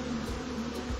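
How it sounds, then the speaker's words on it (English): Bees hum in a steady, low drone, close and continuous. "We have 10 bees."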